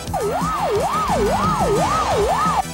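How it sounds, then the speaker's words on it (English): A police car siren wails in a steady rising-and-falling pattern, loud and close, cycling about five times over a low rumble of traffic, with no voices. "And there goes a police car."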